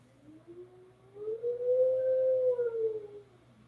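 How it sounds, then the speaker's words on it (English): A small white dog howls alone in a quiet room, one long rising and falling howl that swells after a soft start and tapers off after about three seconds. "Can also be about Osito howling because he's a little white dog."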